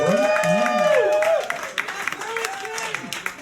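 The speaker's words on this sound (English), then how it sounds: "Big round of applause for these talented folks." Audience at a live music evening in Burlington claps for the musicians and the host, scattered clapping under a loud voice calling out and whooping, then continued applause as the voice drops away.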